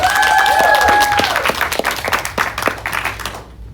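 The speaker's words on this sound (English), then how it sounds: "Can we get one more round of applause for our awesome host, Daniel, everyone who just presented." An audience at a leadership retreat gives a round of applause, loud clapping near the start that thins into scattered claps before fading out.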